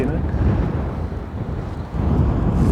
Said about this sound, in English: I hope it's not too windy for any of that to be heard